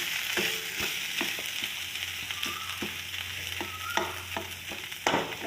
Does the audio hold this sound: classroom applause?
no